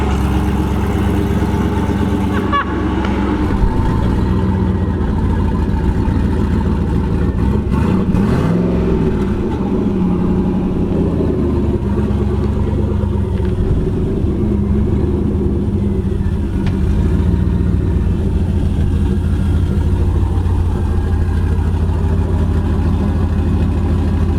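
A big-turbo LS6 engine in a Volvo sleeper idles with a deep, steady rumble, close and loud, with a swelling rev partway through and no talking over it.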